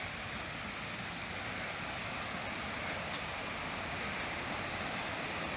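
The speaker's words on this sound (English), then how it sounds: "So now here we go, coming to the waterfall." A waterfall in a forest gives a steady, broadband rushing roar of falling water, constant and fairly close, with no voices over it.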